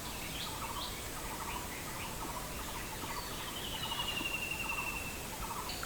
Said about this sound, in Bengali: আমার পাশে এত সুন্দরভাবে কোকিল ডাকছে